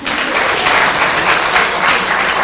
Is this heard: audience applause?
yes